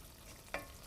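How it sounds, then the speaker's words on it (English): Minced garlic cooking in melted butter is stirred in a pan: two quick, soft scrapes over a faint, low frying hiss. "Now that the butter is getting all melted in the pan, we add the garlic we minced earlier."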